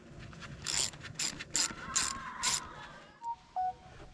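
Ratchet tightening intake manifold bolts on a Chrysler 2.7 engine, heard as five quick clicking bursts in a steady rhythm, close and fairly quiet, followed by a few small metallic taps.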